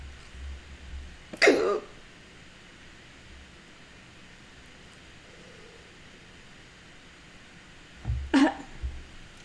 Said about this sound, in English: Man, I keep hiccuping.